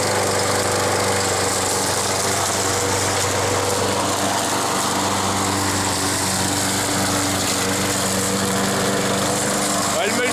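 A lawn mower engine with a mulching function runs loud and steady right up close, a continuous buzzing drone with faint voices barely audible beneath it.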